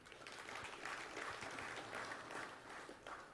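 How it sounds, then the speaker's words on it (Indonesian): Applause rises from the crowd at the opening ceremony of the 43rd Bali Arts Festival in 2021, a steady, faint wash of many hands clapping at a distance for a few seconds. "Tepuk tangan."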